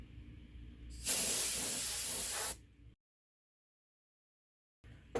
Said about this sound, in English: we can see if we can quickly remove some of the dust using just some compressed air